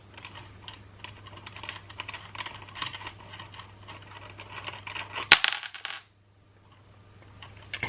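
Soap is worked out of an unscrew mould with a run of light plastic clicks and rattles, then a sharp crack and clatter before quiet.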